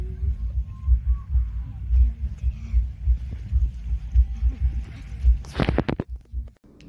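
Heartbeat sounds played back through an interactive light installation, with low, soft thumps repeating at a steady rhythm, ending in a brief burst of handling noise and a short drop to quiet.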